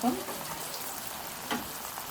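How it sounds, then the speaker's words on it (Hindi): Shami kababs shallow fry in a little oil, a continuous crackling sizzle heard up close with a slight swell at the start and again halfway through. "तो ये फ्राई हो रहे हैं, ये देखें तो ज़बरदस्त से ये फ्राई हो रहे हैं।"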